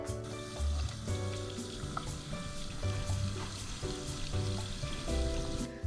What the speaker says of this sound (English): So now I'm going to fry them, so heat the oil up to about 150 degrees.